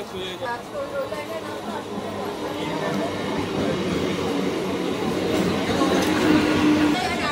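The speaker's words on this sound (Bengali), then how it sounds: "ট্রেন চলে এসছে।" A train pulls into Naihati station with a steady, swelling rumble. People chat nearby on the crowded platform over the noise.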